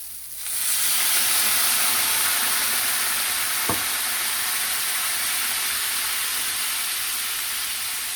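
A sudden loud hiss as a little water hits a hot pan of frying cauliflower, settling into a steady sizzle that continues, with one brief clink partway through.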